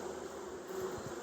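Honey bees buzzing at an open hive in Tennessee in October, a steady close hum of many insects.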